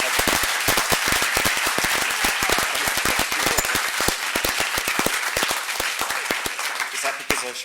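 A roomful of people claps for a newly named gallery director, a dense and steady burst of applause with sharp close hand claps sounding throughout.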